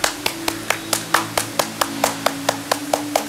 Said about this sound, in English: and clap for yourself.